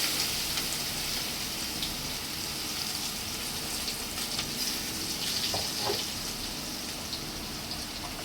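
Chopped onion fries in hot oil in a pan tempered with bay leaves and nigella seeds, giving a steady, close sizzle that crackles evenly throughout with occasional faint stirring.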